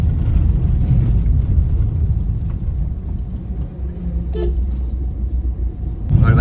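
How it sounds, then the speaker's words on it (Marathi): Road traffic rolling along a rough, potholed road in the monsoon rain, heard as a loud, continuous close rumble of passing vehicles with a horn toot or two breaking through near the end. "रोडचे ट्रॅफिक बघा"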